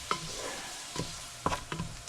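A spoon scrapes and stirs flour through tomato sauce in a hot pan, giving a few soft, uneven strokes over a low, quiet sizzle.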